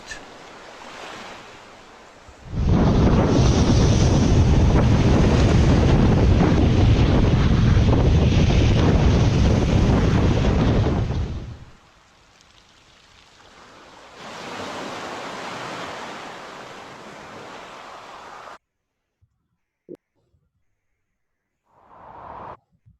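Recorded ocean waves wash loudly as surf breaks, a broad roar that swells for several seconds, eases, returns more softly, then drops to near silence with a few faint clicks at the end.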